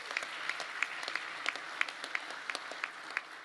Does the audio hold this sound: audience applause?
yes